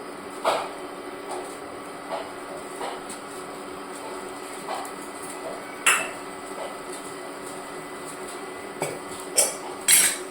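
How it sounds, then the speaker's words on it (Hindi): Metal utensils clink and tap against a pan heating on a stove as oil is added in a home kitchen, with scattered sharp knocks over a faint steady background hum. "मैंने इधर फिर से पैन रख दिया गरम होने को, और इसमें डालने जा रही हूँ थोड़ा सा तेल।"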